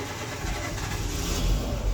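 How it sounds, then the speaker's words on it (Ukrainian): A Renault Megane 2 engine, just started after a fuel pump replacement, idles with a low, steady mechanical hum and rumble, close and unbroken, with no voices. "машина у нас завелась"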